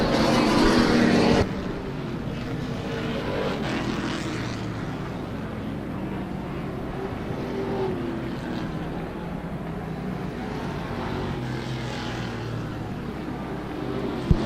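Race cars at Havasu 95 Speedway roar past the start-finish line. A loud burst opens it, then engine noise fills the track steadily for the rest of the clip, with no talk.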